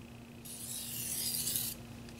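Steel blade of a Tojiro kitchen knife rasping across a sharpening stone in one steady stroke lasting just over a second, close and fairly loud, with quiet room tone before and after.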